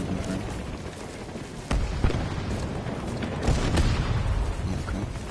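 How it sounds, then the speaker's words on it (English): Explosions on a Battlefield 2042 battlefield, a few dull booms at irregular intervals under a constant rumbling wash of distant combat noise, with no talk. "Random explosions."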